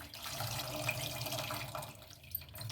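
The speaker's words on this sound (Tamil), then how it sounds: "ஸோ புளி கொஞ்சம் ஊற்றிக்கிறேன்." Tamarind water poured into a pot of vegetable sambar: a continuous, soft liquid trickle with faint splashes, close by and fairly quiet, with no talking.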